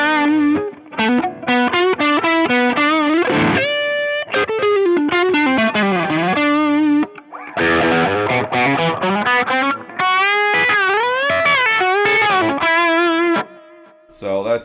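A lead guitar tone from a Fractal FM9/AxeFx3 with a tube screamer in front plays fast bending, twangy overdriven phrases with short gaps between runs.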